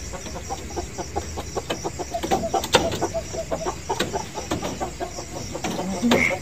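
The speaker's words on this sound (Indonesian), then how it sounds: "Ayam lu bunyi aja tuh, Bang." A chicken clucks repeatedly nearby in a rhythmic series of short calls, with a louder squawk partway through, set against outdoor background noise.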